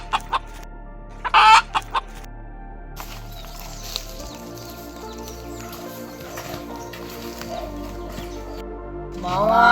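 A chicken being caught by hand clucks and squawks in several short, loud bursts near the start, followed by a steady low background hum and faint rustling.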